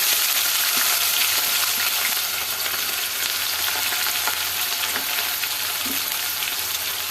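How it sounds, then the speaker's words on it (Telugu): Onion and green chilies frying in hot oil with popping mustard seeds and cumin for a bitter gourd fry, a loud continuous sizzle dotted with small crackles and spatters, no voices. "ఆవాలు చిట్టపట్ల అన్నాక జీలకర్ర వేసుకోవాలి ఇలా ఒక ఉల్లిగడ్డ పచ్చిమిర్చి వేసి"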